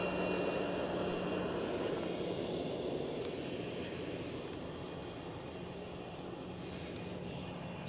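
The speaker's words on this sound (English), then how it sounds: "We have another aircraft on approach as well." An aircraft on approach at Edinburgh Airport makes a steady, broad engine roar that holds loud and constant throughout, outdoors with no talking.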